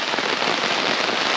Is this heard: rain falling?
yes